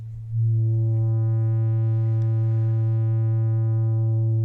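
A Therevox ET-4.2 synthesizer plays a sustained triangle-wave note through its filter, entering after a brief swell and holding as a steady, smooth, mellow tone with soft overtones, alone and unaccompanied.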